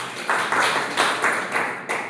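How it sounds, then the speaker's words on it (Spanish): An audience at a university talk at UNFV gives a round of applause, with rhythmic clapping in a steady pulse of about four beats per second, clear and fairly close, with no speech over it. "entonces nos lleva una vuelta de palmas"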